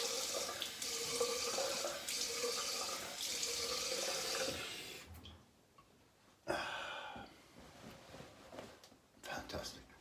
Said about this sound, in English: So I rinsed with warm water, now I rinse with cold.